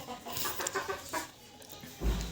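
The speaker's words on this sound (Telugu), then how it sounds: "కోళ్ళు" Chickens clucking in a short series of soft calls, fairly close, with a louder low thump near the end and no talk.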